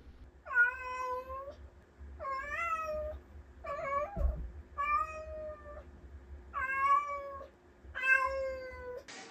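A female cat named Choupinette caterwauling at 3:30 in the morning: six long, wavering, drawn-out yowls in a slow rhythm, loud and close against a quiet night, with a brief thump midway.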